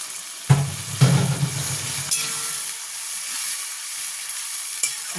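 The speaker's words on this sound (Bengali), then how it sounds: "অল্প জল দিলাম, এবার টমেটোটা দিয়ে দেবো।" Tomatoes drop into a hot pan holding ginger and a little water: two quick thumps of ingredients landing, then a soft, steady sizzle and hiss that continues close by without talk.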